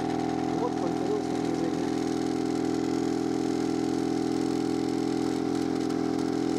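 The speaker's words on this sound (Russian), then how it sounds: "Вот, все, двигатель запустился." Skif portable petrol generator engine for electric wheelchairs running at a steady idle, a constant mid-pitched drone with firm harmonic hum, close and continuous throughout.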